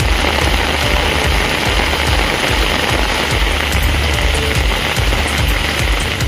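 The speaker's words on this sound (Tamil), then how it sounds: "பல்வேறு பகுதிகளில் மழை கொட்டி தீர்த்தது" Heavy rain pours down steadily in a dense, continuous loud hiss with no break, recorded outdoors during a downpour in Tamil Nadu.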